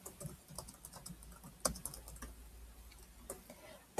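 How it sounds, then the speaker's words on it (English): Typing on a computer keyboard produces quiet, close key clicks in quick, uneven bursts, with a few sharper taps standing out against a soft, near-silent background. "I can click in this field and type my question."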